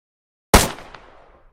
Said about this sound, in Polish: I nagle, z niewiadomo, kąd trafiono nas wszystkich strzałami usypiającymi.